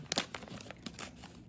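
Plastic crinkles and rustles as scissors cut open a resealable bag of baking ingredients in a kitchen. The crackles are faint, close and irregular, with a few sharper snips.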